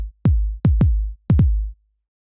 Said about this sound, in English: the original kick, it sounds like this